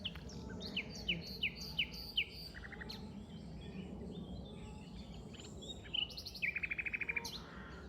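A nightingale sings in West Sussex countryside, a series of short repeated whistled phrases and rapid trills that start and stop, heard clearly over a soft low background rumble with no talking.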